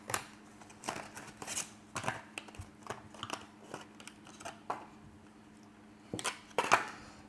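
An M.2 SSD is unpacked from its packaging, with crinkling plastic, sharp clicks and rustles in irregular bursts, close by and fairly quiet.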